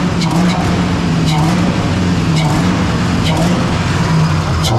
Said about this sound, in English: Got the LS sound, the same sound as mine.